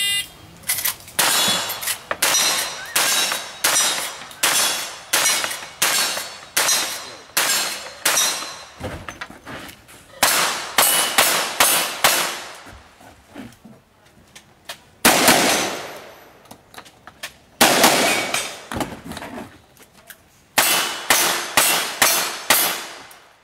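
Rapid series of loud gunshots with ringing metallic clangs of lead striking steel targets at a cowboy action shooting match, bursts of several shots separated by brief pauses, nearby and sharp.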